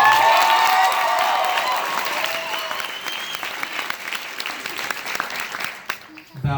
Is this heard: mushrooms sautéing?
no